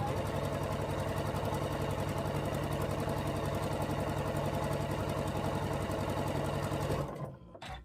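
Sewing machine stitching fabric quilt squares, a fast steady mechanical whirring hum with rapid needle ticks running continuously up close, then stopping abruptly near the end.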